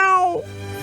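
A person imitates a cat meowing in one short, close vocal meow with a rising then falling tone, standing alone.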